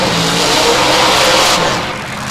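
Fuel-injected race car at an ANRA spring nationals qualifying session, its carburetor swapped for injection, roars loudly and steadily past at close range with a dense, broadband engine howl that fades slightly at the end.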